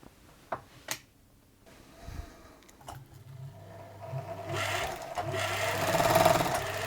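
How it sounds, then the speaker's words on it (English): A Bernina 117 sewing machine, freshly unseized, starts under power after a few clicks and knocks, then runs with a whirring motor hum that builds to a steady, close, fairly loud mechanical drone. "show you the result of the machine running under power"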